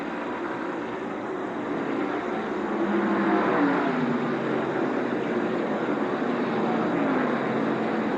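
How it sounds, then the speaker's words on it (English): NASCAR Cup stock cars race at Darlington in the 1990 Southern 500, a steady loud roar of engines with a droning pitch that sweeps faintly as cars pass, sustained without a break. "Here they come off the 4th corner once again with Earnhardt continuing to set the pace"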